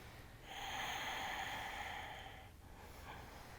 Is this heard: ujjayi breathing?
yes